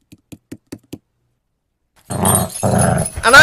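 A dog growls and snarls aggressively in a short animated horror story, a loud close rumbling burst after several faint soft taps in near silence.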